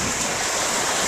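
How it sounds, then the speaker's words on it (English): Ocean waves wash up onto a sandy Australian beach, a loud continuous rushing surf with a hiss of wind, heard up close with no talking. "And here comes the water."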